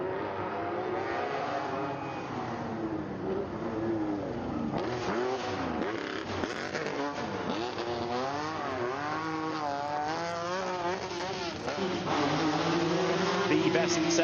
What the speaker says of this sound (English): The Lancia Stratos then, dating back to 1974, blasts away